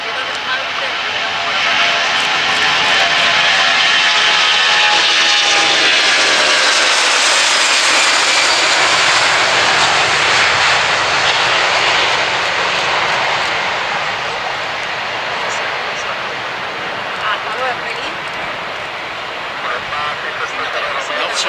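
An Airbus A340-300 jet airliner taking off from Alicante, loaded heavily, its engines roaring loud and near as it passes, the whine and rumble swelling then fading into the distance while people talk over it.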